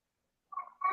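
A house cat gives two short meows, the first brief and nasal, the second rising and a bit louder, close by after a moment of silence.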